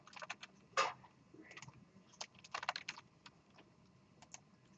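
Short run of keystrokes on a computer keyboard as a command is typed during a programming lecture, quiet and close, with irregular clicks and small pauses between bursts.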